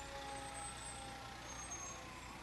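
A fire truck siren drones on steadily at moderate level during a street parade, over a broad rumble of traffic and engine noise, with no clear rise and fall.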